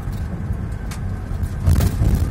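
A car drives along a road, its engine and tyre rumble steady and close from inside, swelling a little toward the end, with no speech over it.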